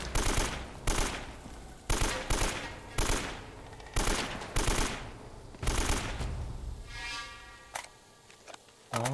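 Bursts of automatic gunfire in Uncharted: Drake's Fortune, loud and near, coming in repeated rapid volleys separated by short gaps, with a whining tonal effect near the end.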